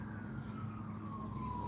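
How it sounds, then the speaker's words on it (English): A siren, believed to be an ambulance, heard during a police patrol, sounds as a faint, steady, slowly descending wail over a constant low road rumble from inside a vehicle. "Oh, siren's coming."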